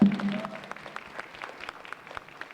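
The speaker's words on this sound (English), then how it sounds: "Let's give them all a round of applause." An audience gives a round of applause at a multicultural showcase fashion walk, soft and steady clapping from a crowd that continues evenly throughout.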